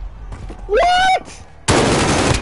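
Gunfire in the shooter game Warzone, a loud burst of rapid automatic shots cutting in near the end after a brief whinny-like tonal sound and a quieter stretch.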